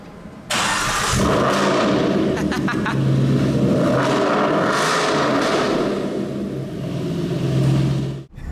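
A sports car engine on a factory exhaust bursts into life from a cold start with a sharp crack, then revs loudly and repeatedly, close by and dominating throughout.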